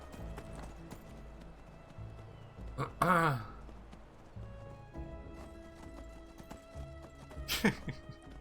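A horse in the video game Enderal, with steady clip-clopping hooves throughout and two loud whinnies, one early and one near the end.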